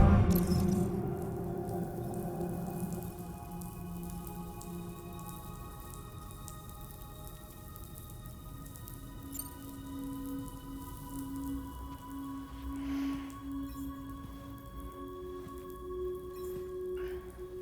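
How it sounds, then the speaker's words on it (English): Steady rain falling in Death Stranding 2: On the Beach on PlayStation 5, a soft continuous patter of drops with a few brief tonal game sounds layered over it, no talking. "Those raindrops are falling on my head."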